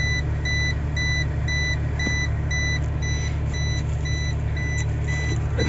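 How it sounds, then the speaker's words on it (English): A SANY excavator's hydraulic quick coupler warning buzzer beeps in a steady, evenly spaced pattern of short tones over the constant low drone of the idling engine. "We flip the switch, buzzer, and the quick coupler"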